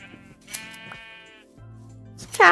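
Sheep bleating in the video game Minecraft, two short wavering bleats close by with a quiet pause between, then a sharper burst at the very end.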